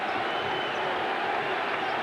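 Enthusiastic crowd at a 1980s Knicks basketball game at Madison Square Garden: a continuous, even roar of cheering voices with no breaks.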